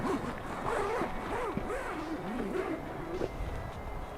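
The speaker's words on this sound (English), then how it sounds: "the awning is sealed up with a heavy-duty zipper" A heavy-duty zipper on a 270 overlanding awning is drawn open in one long continuous pull, its close, ratcheting rasp steady and clear for about four seconds.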